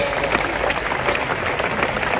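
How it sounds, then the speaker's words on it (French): Church congregation applauding for the Lord, a steady dense wash of clapping from many hands throughout, fairly loud and close. "Acclame bien pour le Seigneur"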